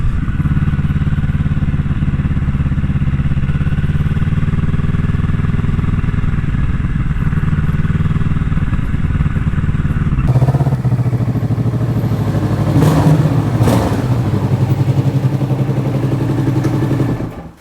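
A Vulcan S motorcycle engine drones steadily while riding, a loud, close, low rumble with a brief clattering shift in tone partway through before it fades out at the end.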